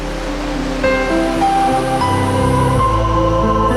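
Ocean waves out in the middle of the sea, a steady broad wash of water that stays loud and even throughout, with no voices over it.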